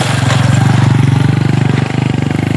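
Motorcycle on a rough road, a loud close engine chug with a fast regular pulsing beat, holding steady with a slight dip near the end.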